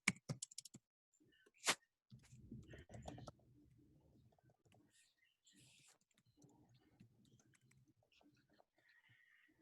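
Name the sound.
typing on a computer keyboard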